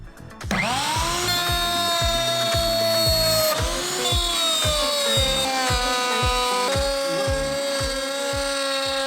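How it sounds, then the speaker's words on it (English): A router table spinning up and cutting wooden trim pieces for a vintage Airstream renovation, a loud high-pitched motor whine with a rapid pulsing chop as each piece is fed through. "Now we're ready to run these through the router table"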